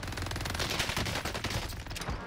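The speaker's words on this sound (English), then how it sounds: "Using every bullet in his gun there." Rapid gunfire in the Call of Duty Warzone video game at Caldera, with a dense, loud burst of automatic shots rattling close and continuously for a couple of seconds, without talk.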